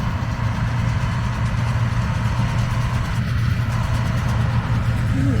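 A tractor's steady low engine rumble idles continuously throughout, with a constant drone and no pauses, fairly close.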